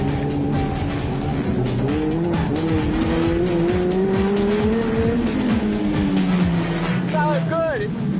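Race cars at a club meeting on a Cornwall track roar and overtake in a loud, continuous pack, engine notes rising and shifting as they pass close by, with brief tyre squeals near the end.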